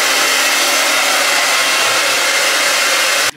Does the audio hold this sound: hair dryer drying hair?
yes